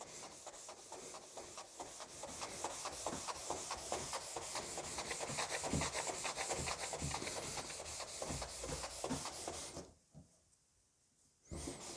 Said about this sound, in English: work this in using backwards and forwards and up and down motions and keep it well lubricated